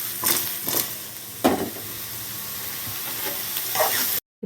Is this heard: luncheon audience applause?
no